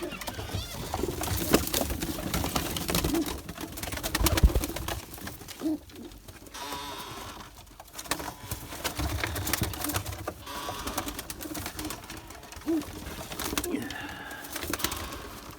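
Pigeons coo softly at intervals amid a busy, rattling background of mechanical clatter and scattered noise, the calls faint and somewhat distant.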